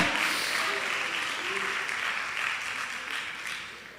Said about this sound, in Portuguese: vamos aplaudir juntos